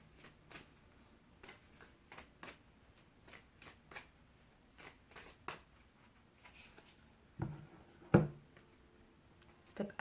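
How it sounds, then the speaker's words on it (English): A tarot card deck is shuffled repeatedly, with soft riffling snaps in irregular bursts and one louder slap near the end, close and quiet. "I love the way this deck shuffles."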